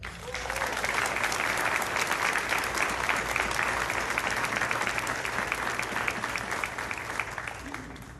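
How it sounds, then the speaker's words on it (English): Town hall audience applauding continuously, a dense, loud wash of many hands clapping at once that holds steady for several seconds. "ladies and gentlemen, please join me in giving a round of applause"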